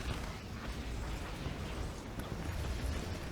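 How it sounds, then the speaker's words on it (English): Large-scale battle explosions rumble in the Command & Conquer: Kane's Wrath strategy game, a dense, continuous roar of blasts and artillery with no clear breaks. "Just a lot of explosions going down."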